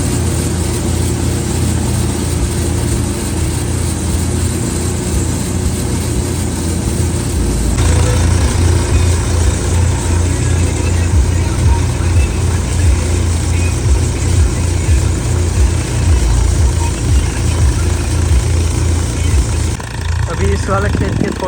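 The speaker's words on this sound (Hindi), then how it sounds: "खेत में ट्रैक्टर चलता जाता है और निकलता जाता है।" A tractor works through a chickpea field during harvest, its engine a constant close droning rumble that grows louder and busier partway through, with someone talking steadily over it.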